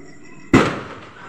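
A single sharp Diwali firecracker burst at night, close and loud, its bang decaying into a crackling tail over a faint background.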